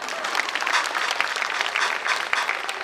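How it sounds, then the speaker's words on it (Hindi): An audience at an anniversary celebration breaks into brisk, moderately loud applause, a dense patter of clapping that holds steady for a few seconds without talk. "बजाओ ताली यार।"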